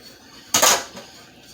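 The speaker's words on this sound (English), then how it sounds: "We're going to go ahead and add our pecans. And keep stirring." A spoon clatters once against a cooking pot while pecans are stirred into German chocolate frosting, a short metallic scrape and clink, close and fairly quiet.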